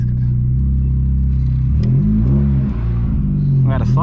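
A 1999 VW Gol G2 with a 1.0 8V engine and a four-inch HKS exhaust idles with a deep, loud rumble, then revs up and settles back in smooth rising and falling sweeps, heard close.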